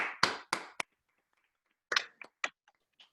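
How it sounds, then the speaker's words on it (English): A handful of scattered claps and taps from a small online audience applauding after a design talk, sparse and uneven with gaps between bursts, fairly quiet. "So can we please unmute and give Mark a round of applause?"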